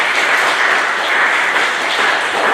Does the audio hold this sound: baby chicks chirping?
no